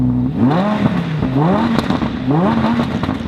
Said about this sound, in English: That is one good sounding car.